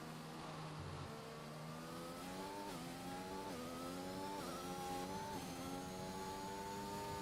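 A race car pulls out of the pits in a racing video game, its engine note climbing in pitch through repeated gear changes, each shift dropping the tone briefly before it rises again, loud and continuous.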